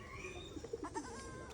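A large ram-type goat gives a few quavering bleats at close range, fairly faint against a quiet background, followed by a short sharp knock at the very end.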